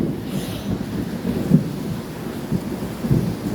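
Steady rain falls in San Luis, Pampanga, Philippines, with distant thunder rumbling low underneath, a continuous wash of noise with a few heavier swells.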